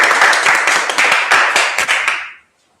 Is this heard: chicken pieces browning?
no